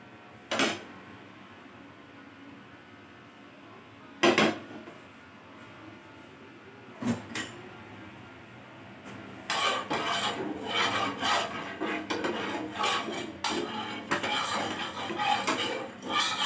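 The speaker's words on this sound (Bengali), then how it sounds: "তেলটাকে আমি পুরো মাখিয়ে নিলাম ফ্রাই ফ্রাইং প্যানটার মধ্যে" Refined oil is spread around a frying pan with a utensil, giving scraping, rubbing sounds: a few isolated knocks early on, then a steady run of close, rasping scrapes toward the end, with no talking.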